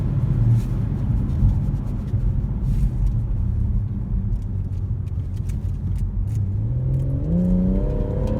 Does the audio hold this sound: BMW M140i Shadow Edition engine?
yes